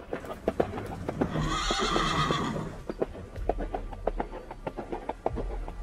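A horse neighs loudly in one long whinny while its hooves clip-clop in a steady rhythm that continues after the neigh fades, close and clear with no talking.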